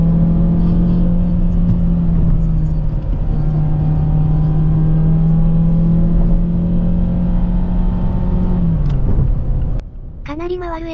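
The gasoline engine of a Mazda6 Wagon revs high and loud with a steady rising drone inside the cabin, then drops off sharply near the end; someone speaks briefly afterward.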